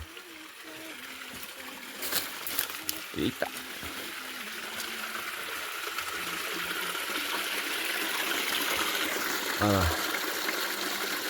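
Water rushing over a stone in a forest stream, a steady broadband gush that grows slightly louder, with a few knocks and brief speech from people nearby.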